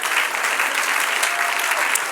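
A church congregation bursts into a dense, steady wash of applause for the Lord, loud and close, with no pause for the whole stretch.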